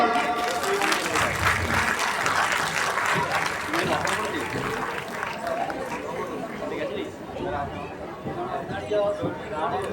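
Sustained applause from a school audience honoring award-winning student athletes, a dense steady clapping over crowd chatter that lasts the whole time.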